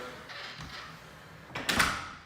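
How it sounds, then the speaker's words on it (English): An elevator gate slides shut with a soft rolling scrape, then the door closes with a louder, nearer thump and rattle near the end. "slide the gate shut securely, shut the door"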